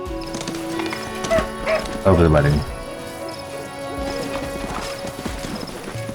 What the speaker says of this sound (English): Lots of horses